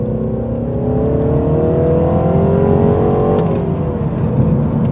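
A 2016 Mini Clubman Cooper S pulls hard in sport mode on a rainy road, engine note climbing steadily through the revs, then briefly dropping at a gear change, loud from inside the cabin with road noise.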